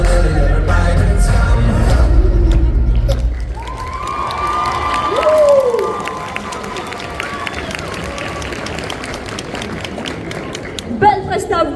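An audience at the Angers Geekfest 2024 cosplay parade cheers and applauds loudly for a few seconds, then the noise settles into a quieter crowd murmur with voices through the rest.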